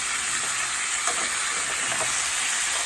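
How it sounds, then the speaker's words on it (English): Lamb sears in a hot pan, giving off a steady, loud hissing sizzle that stays even throughout, with faint stirring and spattering pops underneath. "we are going to sear the lamb on both sides so that it's pretty brown"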